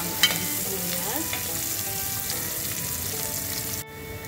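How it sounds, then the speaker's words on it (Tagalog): Onions sauté in a pan for ginataang kalabasa, crackling in a busy close sizzle while being stirred, before the sound drops sharply near the end. "Hintayin lang natin mag-golden brown ang ating sibuyas."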